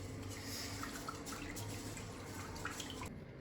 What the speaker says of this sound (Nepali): चामल मजाले सफा गर्नुपर्छ पहिला।